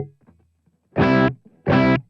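Two short strummed chords on an electric guitar through a Kemper Vibrolux-type amp profile, clean and completely dry with no reverb, each chord ringing about a third of a second and cut off abruptly, with brief quiet picking noise before them.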